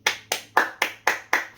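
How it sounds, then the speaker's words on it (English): Hand clapping from one person, seven sharp claps in a steady rhythm, close and clear with no talk. "Let's clap for that."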